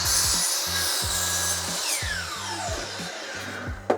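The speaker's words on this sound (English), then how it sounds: "now we're gonna bring it back to the miter saw, and then where this blade is going to hit the back of this piece, that is where we wanna start our cut" A miter saw cuts through a wood piece, its blade sweeping with a bright, rasping whine over a rhythmic low thumping, ending in a sharp clack as the cut finishes; loud and close, no voices.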